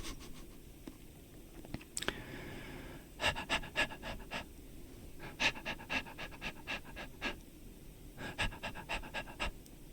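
A human voice imitates a dog panting: rapid, breathy huffs in quick rhythmic bursts, close and soft, alternating with short pauses and a faint rustle.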